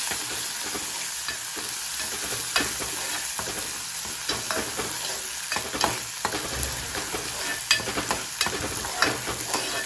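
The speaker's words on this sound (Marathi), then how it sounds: "तर तेल मस्त गरम झाले, याच्यात मी हा वाटण टाकते ठेचलेला। याला मस्त मिक्स करून घेते।" Crushed spice paste sizzling in hot oil in a pan for a fish curry, stirred continuously, with a steady dense frying hiss and scraping stir strokes, close and fairly loud, no talking.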